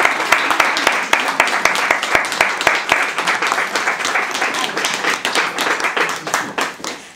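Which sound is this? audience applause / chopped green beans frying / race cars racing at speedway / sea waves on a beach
audience applause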